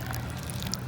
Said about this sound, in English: Lastly, you want to take your water, pour it right on top.